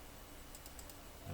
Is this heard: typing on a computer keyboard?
yes